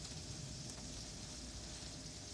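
Heavy rain pours down in a steady, dense hiss and patter, uniform and close for the whole short stretch with nothing else standing out.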